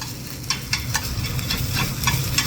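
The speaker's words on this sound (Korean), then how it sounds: "자, 고사리도 볶아주세요." Bracken fern being stir-fried in a pan, with a steady sizzle cut by regular scraping strokes of the spatula, close and moderately loud, with no talking.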